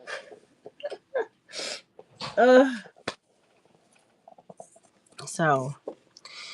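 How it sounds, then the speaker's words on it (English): A close, sudden sneeze bursts out between soft breaths and small rustles, followed by a second voiced exhale-like burst. "Oh, I'm gonna sneeze."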